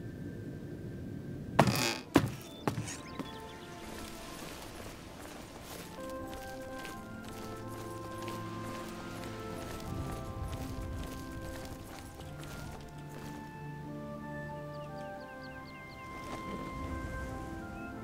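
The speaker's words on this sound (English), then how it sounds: "this horse is fast" A fast horse gallops in the video game Oblivion, a quick rhythmic clip-clop of hooves over a sustained game music bed, after a few loud knocks near the start.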